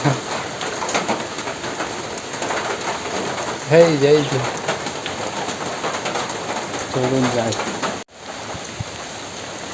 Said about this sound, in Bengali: এখনও ধীরে ধীরে বৃষ্টি হইতেছে